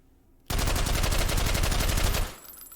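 Suppressed FAL rifle in H3VR fired full-auto: a rapid, steady burst of muffled shots lasting about two seconds, loud and close, then cutting off into a brief tail.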